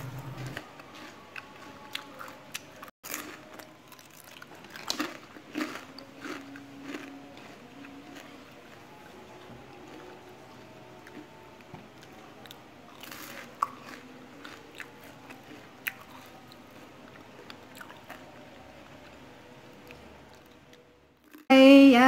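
Crunchy homemade cheese potato sticks are bitten and chewed up close, with sharp crisp crunches repeating irregularly over a long stretch in an otherwise quiet room.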